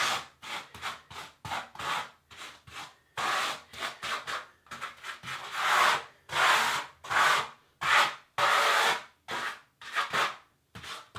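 A grout float packs Mapei Flexcolor CQ grout into ceramic bathroom floor tile joints at a 45-degree angle, heard as repeated gritty rubbing strokes in uneven bursts separated by short pauses, close up and with no talking.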